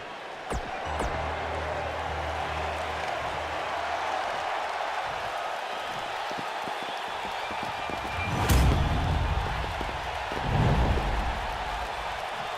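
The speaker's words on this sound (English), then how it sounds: "The crowd is buzzing." A WWE 2K19 video game arena crowd buzzes before a two-out-of-three-falls wrestling match, a steady dense murmur of cheering with a couple of louder swells toward the end.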